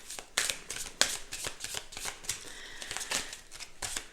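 A deck of Lenormand cards is shuffled by hand, close and quiet, with a rapid series of crisp riffling slaps and soft card rustles at an uneven rhythm.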